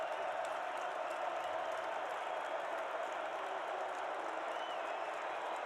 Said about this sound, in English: the Bison crowd comes to its feet